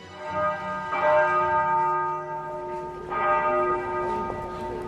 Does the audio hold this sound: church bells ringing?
yes